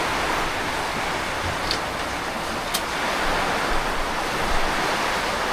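Heavy rain pours steadily as a dense, even roar, with no voices and only a couple of faint ticks rising above the wash.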